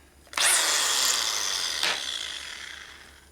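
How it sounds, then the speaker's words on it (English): A dull power drill whirs into material during a 1967 Harley-Davidson shovelhead motor rebuild, starting suddenly, grinding steadily for a few seconds before winding down, close by. "Thought I was using a sharp drill there."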